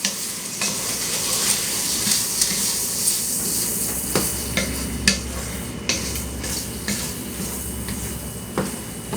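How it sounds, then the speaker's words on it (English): Salsa mixture sizzles in a hot pan while a utensil stirs it, steady frying hiss broken by regular scraping clinks against the pan, close and loud. "Now we're going to mix this together."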